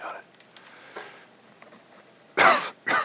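Two sharp coughs close to the microphone near the end, after a stretch of faint background noise.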